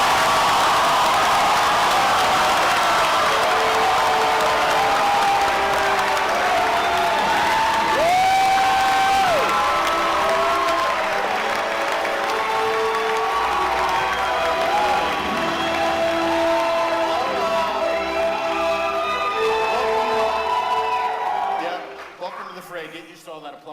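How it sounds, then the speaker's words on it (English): A large crowd greeting the Black Panther star with sustained applause, cheering and whoops, with shrill shouts rising over the clapping, loud and continuous before fading out at the end. "Get used to all that applause, by the way."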